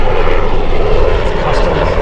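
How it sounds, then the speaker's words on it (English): A Black Hawk helicopter passes overhead near the Jefferson Memorial in Washington, D.C., its loud, steady engine and rotor drone filling the whole stretch without a break. "But there's a helicopter. Ooh, it's one of the Black Hawks."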